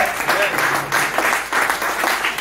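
Audience applause with some cheering at a speech event, a steady, dense wash of clapping that swells and dips in waves throughout.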